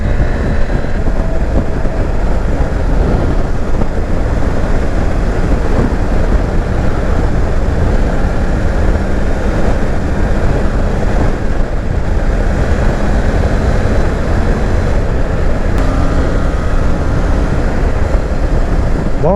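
Triumph Tiger 900 GT Pro motorcycle (2020, 35 kW A2 version) under way on the road, a steady engine drone buried in heavy wind rush, with quickshifter gear changes barely distinguishable.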